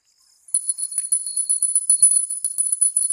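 A small bell rings continuously in a rapid, shimmering jingle after a brief quiet start, bright and fairly loud, heard alone without talk during a Chhattisgarhi comedy skit.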